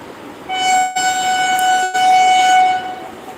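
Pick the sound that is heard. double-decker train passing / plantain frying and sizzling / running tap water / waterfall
double-decker train passing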